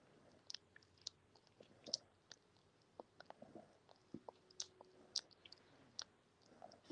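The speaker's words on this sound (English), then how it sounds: "Oh, she's sleep chewing it." A sleeping puppy gnaws on a roller toy, faint close-up clicks and soft crunching bites in an irregular rhythm over quiet background.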